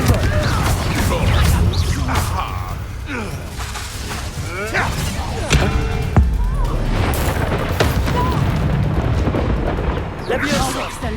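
Blasts and crashing impacts from the Confringo fire spell in the video game Hogwarts Legacy burst repeatedly amid combat noise, loud and close, with a voice shouting spell names over the clashes.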